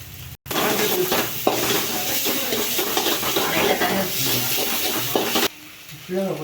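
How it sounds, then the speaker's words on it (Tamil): A spoon stirs a tomato and onion masala in a hot kadai, giving repeated scraping strokes over a constant loud sizzle, with a short gap near the start before the stirring resumes and carries on. "கடாயில் அடிப்பிடிக்காத அளவு கிளறி கொண்டே இருக்க வேண்டும்"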